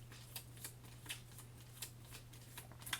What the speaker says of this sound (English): Now I have to shuffle the AI deck.